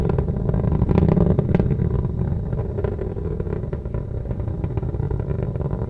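Atlas V rocket in flight during launch, a deep continuous rumbling roar heard from a distance, steady and loud with slight crackle.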